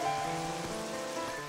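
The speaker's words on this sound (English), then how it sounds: "I just hate the rain." Steady rain hisses continuously in the video game Twilight Princess HD, with soft, tonal game music underneath.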